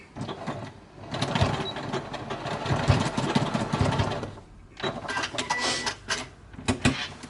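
A sewing machine tack-stitches back and forth over the ends of a make-up bag seam, running in two sustained bursts with a short pause between, close and steady with no talking.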